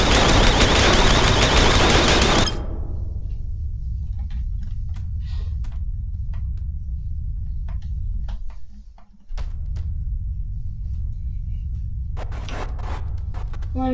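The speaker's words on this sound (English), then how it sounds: "Sentry turret that targets everything that seems to be alive." Sentry turret in People Playground opens with a dense, loud burst of rapid automatic fire for about two seconds, then cuts off to a low rumble with scattered clicks before another short crackling burst near the end.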